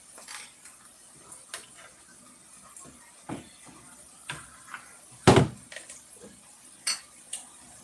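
Dishes, pans and cutlery being put away and washed in a home kitchen: scattered clinks and clatters at irregular intervals, one sharp loud knock midway, with quiet stretches between.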